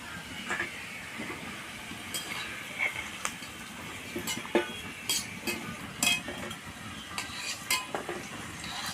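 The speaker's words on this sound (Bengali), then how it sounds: "আলু আমার ফ্রাই করা হয়ে গেছে এবার আমি তুলে নেব" Potatoes frying in oil give a steady, dense sizzle, with quick clicks and scrapes of a utensil in the pan throughout.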